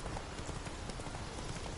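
Horse hooves clip-clop steadily in The Witcher 3 as a rider trots just ahead, a fairly quiet, even patter of game footfalls over a dense background bed.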